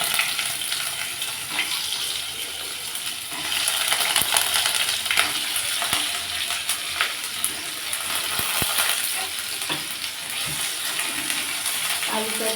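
Potatoes fry in hot oil in a wok, hissing and crackling at a steady sizzle. Occasional sharp clinks of stirring and a faint voice in the background.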